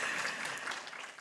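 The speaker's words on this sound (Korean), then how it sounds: "다시 한 번 더 김성훈 팀장님께 큰 박수 부탁드리겠습니다." An audience at a KISA cybersecurity presentation event claps for the presenter, a brief, moderately loud burst of applause that thins out toward the end.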